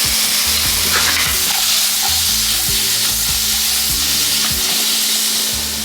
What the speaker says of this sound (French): comme on les fait revenir à la poêle, il faut que ça cuise assez vite pour les faire sauter